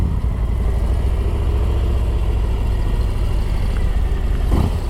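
A 2023 Harley-Davidson Street Glide ST with stock exhaust pipes rumbles steadily in a continuous loud low engine drone while riding, with a slight rise near the end.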